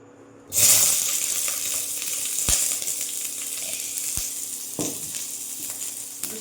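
Onion slices drop into hot homemade desi ghee on low heat and burst into a loud, steady sizzle that keeps going, with a few light clicks and stirring scrapes.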